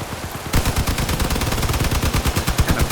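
Vehicle-mounted cannons in the combat game Crossout fire a fast, steady string of loud, sharp blasts after a brief lull, each shot punching in rapid rhythmic succession.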